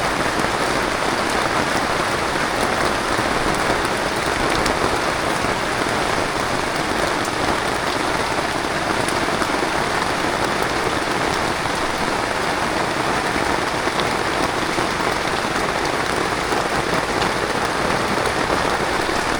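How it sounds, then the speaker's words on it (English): Heavy rain pours onto a truck camp in Lam Ta Khlong National Park, a dense, steady roar of drops drumming on surfaces close by, constant and loud throughout with no voices. "It's a good rain."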